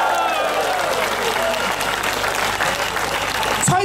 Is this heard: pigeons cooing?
no